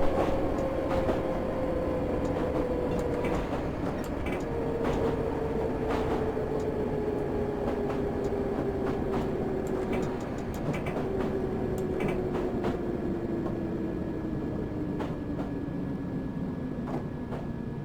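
A D78 Stock London Underground train in Train Simulator 2018 rolls along with a steady rumble, a slowly falling motor whine and scattered clicks and clunks from the track, continuous and moderately loud.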